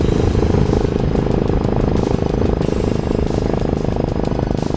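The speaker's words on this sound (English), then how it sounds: "The bike in front of me is, I believe it's Electra, and he has a custom or aftermarket silencer fitted." A Royal Enfield Electra motorcycle fitted with an aftermarket silencer, riding just ahead on the road, gives a loud, steady engine rumble that fills the whole stretch with no pause.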